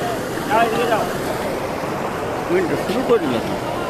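Floodwater from a rain-swollen river rushes across a road near the Telkani bridge, a loud steady roar with wind buffeting the microphone and faint voices underneath.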